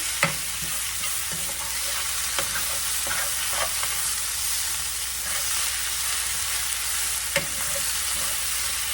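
Ground beef empanada filling with canned ingredients being stirred in a hot pan, a continuous sizzle with scattered scraping and clinking utensil strokes against the pan throughout.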